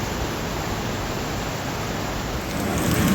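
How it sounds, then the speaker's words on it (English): Heavy tropical rain pouring down steadily in Queensland, Australia, a dense, even hiss that swells slightly louder near the end, with no voices. "Total downpour, but I'm braving the elements for beer."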